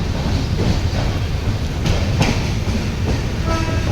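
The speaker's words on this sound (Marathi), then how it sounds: "कोकण रेल्वेचा आपला ट्रॅक आता चेंज झाला आहे लोकलचा ट्रॅक सोडला आहे" Mangalore Express train running on Konkan Railway track, a steady loud rumble of wheels on rails with faint rhythmic clicks and rattling of the coach throughout, no voices.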